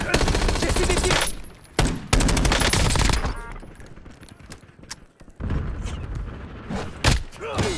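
Heavy gunfire in the Warzone shooter game, with dense loud bursts at the start, sharp single shots, then scattered quieter fire and thuds, and a game voice briefly heard.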